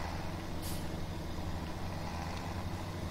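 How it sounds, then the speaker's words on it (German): Vehicle tires rolling over gravel in the farming simulator Landwirtschafts Simulator 2017, a steady low rumbling drone with a constant engine hum and one brief hiss partway through, no talking. "Die Reifengeräusche sind auch neu"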